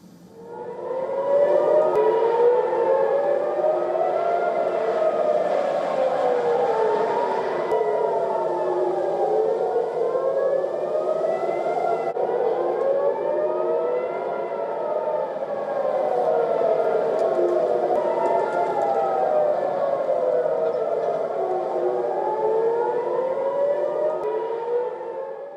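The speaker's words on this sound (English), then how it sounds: "residents of Tel Aviv heard sirens blaring in the early hours of Friday" Air raid sirens blare across Tel Aviv in the early hours, ahead of incoming missiles and drones: a loud, continuous wail that rises and falls in overlapping sweeps for the whole stretch, with no voices.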